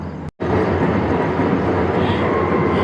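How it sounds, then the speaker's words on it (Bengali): A train passes on a railway line close to homes in Hyderabad at night, a loud, steady roaring rumble that begins after a brief gap and keeps going without letting up. "এই ওদিকে ট্রেন যাচ্ছে, ওদিকে ট্রেন যাচ্ছে, রেল লাইনও আমাদের মানে সামনেই আর কি।"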